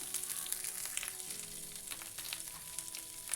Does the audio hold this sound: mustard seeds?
yes